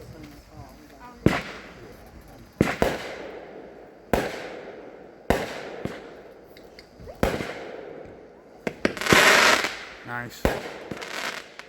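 A Sunwing Camo Kaboom 16-shot firework cake fires a string of sharp, loud launches and bursts at irregular intervals, with crackling between shots and a brief spoken comment.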